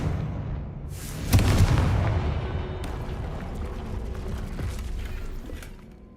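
A Confringo fire spell explodes in Hogwarts Legacy, a sudden loud boom followed by a long rumbling decay and crackling debris, with a second softer impact later.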